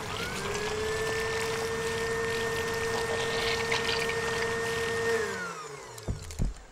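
A cartoon machine sucks up spilled oil from the sea with a steady, loud mechanical whine and hum that holds for about five seconds, then winds down and stops, followed by a couple of short knocks.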